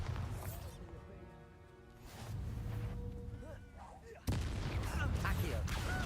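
A Bombarda blasting spell explodes in Hogwarts Legacy, a sudden loud burst late on after quieter combat sounds and faint talk, the blast leaving a dense crackling rumble.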